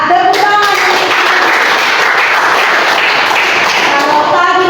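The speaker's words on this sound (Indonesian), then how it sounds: "Ya, tepuk tangan." A classroom group claps hands together in steady, dense applause lasting several seconds, loud and continuous, with some voices mixed in.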